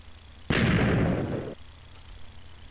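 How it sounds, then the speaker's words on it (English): A single loud blast of TNT blocks detonating in the Minecraft video game, bursting suddenly and roaring for about a second before cutting off. "And now we're gonna detonate that."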